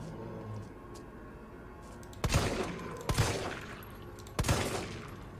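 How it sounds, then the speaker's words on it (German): Three sharp gunshots ring out in the survival horror video game Resident Evil 3, spaced about a second apart, each a loud crack with a short decaying tail over a low background hum. "Drei Schüsse auf den Kopf"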